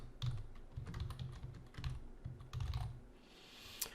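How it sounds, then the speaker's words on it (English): Rapid, uneven keystrokes on a computer keyboard while a business name is entered during setup of a new Facebook page, close and fairly quiet with no talking. "I'm gonna type the name of the business."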